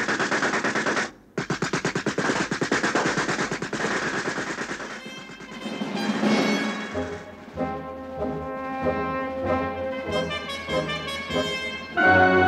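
Soldiers firing on command in a radio play: sustained rapid machine-gun bursts rattle loudly for several seconds, briefly break off, then give way to echoing reports and ringing tones.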